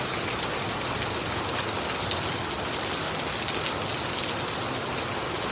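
Steady heavy rain pours down on a flooded street in Hoi An, Vietnam, in a dense, hissing wash, constant and close, with no voices.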